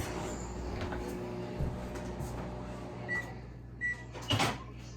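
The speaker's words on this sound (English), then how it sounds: "Damn microwave." A steady microwave oven hum fills the background, then a few short electronic beeps and a clunk near the end, close by.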